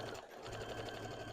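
A sewing machine runs steadily through a brief stretch of stitching on a plushie pattern, a close, continuous whirring hum with a soft rhythmic chatter.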